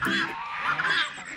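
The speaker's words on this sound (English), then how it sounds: "Hey, ducks." Ducks call outdoors in a short burst of loud, nasal honking calls, close and overlapping, with no talking.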